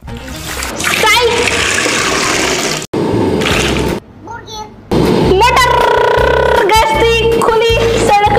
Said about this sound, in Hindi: इसमें हम डालेंगे थोड़ा सा पानी।